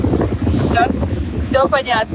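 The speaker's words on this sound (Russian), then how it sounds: "У нас сегодня ветер" Wind on the Odessa seashore buffets the microphone in a steady, rumbling roar, with someone speaking briefly over it.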